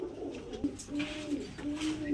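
Pigeons coo repeatedly at a bustling pigeon market where silver dom pigeons are sold, their low throaty calls coming close and steady over a faint background murmur.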